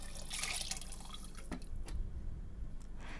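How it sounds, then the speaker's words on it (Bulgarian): Water pours and splashes into a pot over cut potatoes while potato soup is made, a steady close trickle with a few brighter splashes and drips. "Наливам вода, колкото да покрие продуктите и около 4 пръста над тях."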